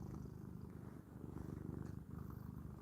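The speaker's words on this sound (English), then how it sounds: "Take this out. He's purring." Jasper the cat purrs softly and steadily close by, a continuous low rumbling that pulses with each breath, quiet and alone.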